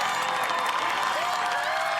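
A television studio crowd at an American Ninja Warrior finals course in Los Angeles cheers and applauds as a woman athlete gets onto the I-beam obstacle, a dense, sustained roar with whistles rising through it.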